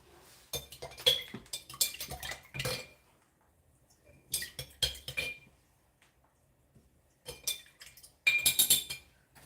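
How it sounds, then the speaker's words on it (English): Metal palette knife scraped and tapped clean during acrylic painting, bursts of clinking, scraping strokes in three clusters separated by quiet pauses. "I'm going to clean off my palette knife now."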